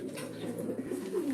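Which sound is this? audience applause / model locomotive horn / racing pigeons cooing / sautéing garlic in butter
racing pigeons cooing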